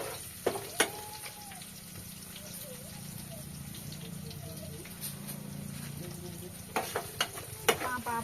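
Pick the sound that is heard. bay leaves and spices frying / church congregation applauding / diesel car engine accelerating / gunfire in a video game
bay leaves and spices frying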